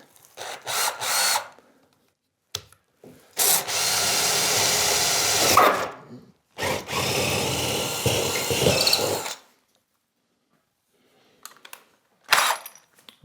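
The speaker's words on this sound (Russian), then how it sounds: "Сейчас быстренько сделаю отверстие, чтобы с другой стороны было видно, где пилить." Power drill boring a hole through a wall during demolition work in an old house, running in two long loud sustained bursts with short starts and stops around them, close by and with no talk.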